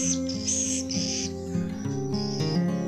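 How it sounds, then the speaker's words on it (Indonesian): A swiftlet held in the hand chirps in a steady run of high, thin calls over about three seconds, set against a sustained lower tonal background. "nah ini burung walet yang lagi saya pegang"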